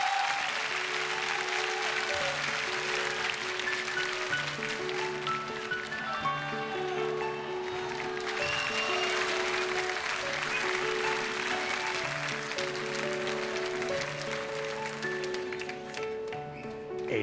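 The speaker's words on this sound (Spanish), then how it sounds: "Un aplauso fuerte" Audience applause greets the singer as a sustained wash of clapping, running over steady orchestral music with held tones.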